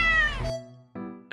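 An angry British shorthair cat lets out a loud, drawn-out meow that falls in pitch, then after a brief pause starts a second shorter cry, close up with no talking.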